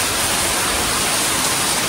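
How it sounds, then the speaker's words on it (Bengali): Steady, dense rain pouring continuously, a loud broadband hiss with no gaps and no voices. "দেখো এইরকম একটা বৃষ্টি হচ্ছে, শান্তির হাওয়া"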